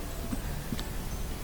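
A few faint, light metallic taps sound as a socket on an extension knocks a Whirlpool washer's motor coupler down onto the transmission shaft, spaced irregularly over steady background hiss.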